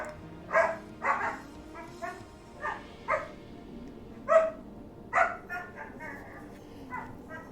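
Several dogs bark in short irregular bursts, fairly close, with yips mixed in over quiet background music while a person talks.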